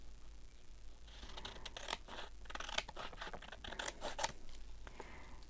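Scissors trim the edge of a paper collage piece in soft, close snips and scratchy cuts, quiet and uneven, with no voices present.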